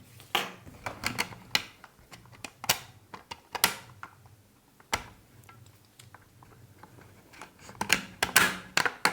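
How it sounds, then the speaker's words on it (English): Plastic back cover being clamped onto a PlayStation Portal, a sequence of sharp close clicks and snaps at irregular intervals, several clustered near the start and the end, with faint handling noise between them. "we're gonna clamp on back our cover right into place"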